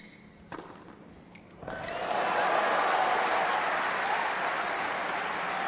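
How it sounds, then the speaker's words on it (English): A tennis crowd bursts into applause after a couple of sharp knocks, the clapping swelling quickly and then holding loud and dense for several seconds. "Applause from the crowd."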